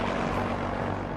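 An early airplane engine and propeller drone steadily and loudly throughout, a continuous rough roar with no voices.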